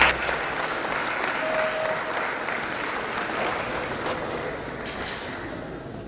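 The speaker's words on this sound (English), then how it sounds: "A round of applause for Amani as he steps forward." An audience claps for a speaker stepping up at the DevFest Owerri 2024 tech conference, giving steady, continuous applause for several seconds.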